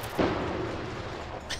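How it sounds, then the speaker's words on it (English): Fireworks going off in the video game Hitman: Absolution, heard as a loud boom that fades into a sustained rumbling roar, with a brief crackle near the end. "Death by fireworks."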